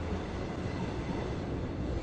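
Long Island Rail Road train 2798 rolling past at Westhampton, a steady close rumble of wheels and railcars with faint clickety-clack, continuous and fairly loud throughout.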